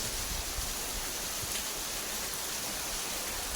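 Steady rain falls during a rainy day in rural Punjab, a dense continuous hiss of drops spread evenly across the whole stretch without pauses or voices.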